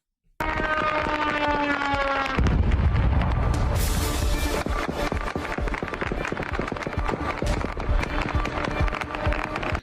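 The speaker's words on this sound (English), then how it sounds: "You guys hear all that gunfire going on at the same time, right?" Rapid, continuous cracks of gunfire rattle at a distance in northern Iraq, dense overlapping bursts sustained throughout, with a wailing tone underneath at the start.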